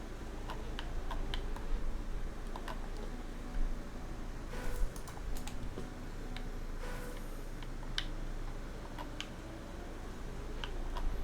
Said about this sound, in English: it sounds like I'm playing on a keyboard half the time when I'm using my controller